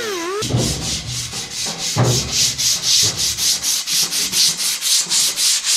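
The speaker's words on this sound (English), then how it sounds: "Kind of hit it up with a little bit of sandpaper." Sandpaper scrubs by hand across a homemade sheet metal smoke stack in quick, even back-and-forth strokes, a loud rhythmic rasping that repeats steadily after a brief tool whine at the start.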